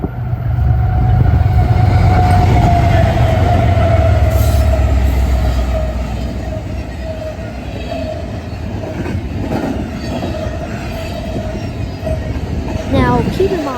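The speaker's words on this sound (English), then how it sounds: "it's a freight train" A freight train rumbles past close by on the railroad, a loud continuous roll with wheel and car noise that eases slightly midway, carried on a strong wind, with a brief faint squeal near the end.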